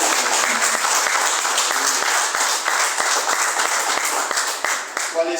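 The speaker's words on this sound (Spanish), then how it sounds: "Denle un aplauso al Señor." Church congregation applauding during a sermon, dense continuous clapping from many people filling the room, fairly loud and sustained, with a voice faintly present beneath it.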